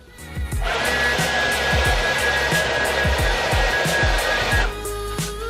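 A hair dryer switches on and blows with a steady, loud whooshing roar for about four seconds while hair is dried indoors, then cuts off, with faint thumps underneath and no talking.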